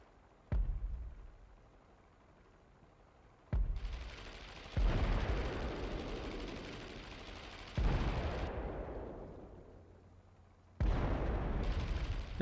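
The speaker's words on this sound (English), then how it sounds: "You can hear intense gunfire going on over there." Intense gunfire and explosive bursts in an IL-2 Great Battles D-Day glider landing scene, loud sudden blasts at intervals each followed by rumbling decay, with no talk.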